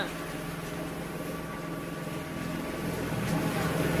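An oil press machine crushes groundnuts into peanut oil, giving a steady, loud mechanical drone with an even hum that swells slightly toward the end.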